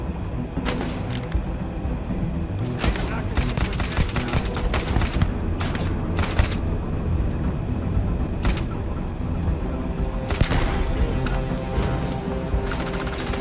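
Steady bursts of gunfire from a weapon in the video game Starfield crack repeatedly over a constant layer of game background noise, with a few sharper, louder shots standing out.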